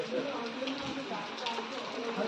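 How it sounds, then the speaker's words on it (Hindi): Heavy rain falls steadily outside during a power cut, a dense even hiss of drops with no break, moderately loud and close, with no voices over it. "अभी बहुत तेज़ बारिश हो गई है, पता नहीं कब रुकेगी"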